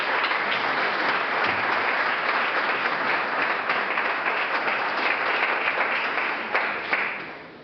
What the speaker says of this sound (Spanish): un aplauso para el primer ponente